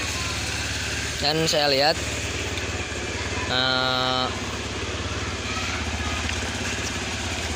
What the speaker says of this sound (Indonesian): motornya juga sudah hidup ya teman-teman. Kita coba hidupkan.